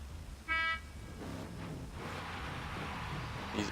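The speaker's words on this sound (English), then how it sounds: "Honk when ready, Flight, and then you may go." A single short car horn toot at a flight competition's final qualifying run, followed by steady crowd and ambient noise in the background.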